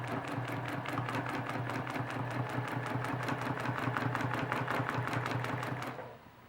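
A sewing machine runs steadily while quilting feathers on a USA Friendship Map quilt, its rapid regular needle strokes close and continuous for about six seconds before stopping.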